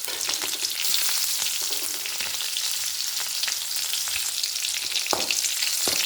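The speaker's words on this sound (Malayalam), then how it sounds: "കടുക് പൊട്ടിക്കഴിഞ്ഞ് നമുക്ക് ഉള്ളി ചേർക്കാൻ" Sliced onion sizzles in hot oil after mustard seeds have popped, a loud steady frying hiss close by with occasional crackles and stirring clicks, no voices.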